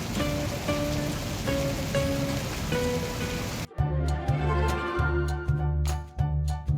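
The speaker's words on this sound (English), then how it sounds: "After sowing the seeds, a rain shower fell" Steady rain patters on a surface in a dense hiss, then gives way to louder, rhythmic dripping and tapping drops with a low pulsing tone underneath.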